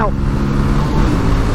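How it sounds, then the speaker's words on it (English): A 1988 Yamaha Virago 250 motorcycle engine held at full throttle, maxed out in fourth gear, giving a loud, steady droning whine with wind rush, close and continuous. "That's fourth gear maxed out"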